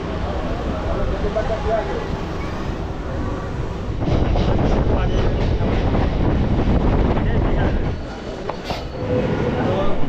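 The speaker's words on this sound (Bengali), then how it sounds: "চলে এসছে আমাদের বনগাঁ লোকাল।" A Bongaon local train rumbles into a station, its wheels and carriages growing louder with rattling clatter, while people talk nearby on the platform.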